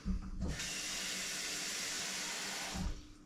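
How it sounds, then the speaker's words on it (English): Water runs steadily from a tap into a steaming cooking pot for about two seconds, a broad even hiss with light clunks of the pot at the start and finish. "So I've just got a steaming pot here. Bang a bit of water in."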